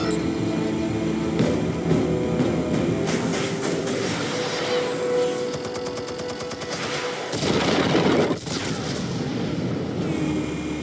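Explosives detonating in Batman: The Telltale Series, a dense barrage of loud bursts and rumbling blasts with crackling debris running the whole stretch, a sharp heavy hit near the end.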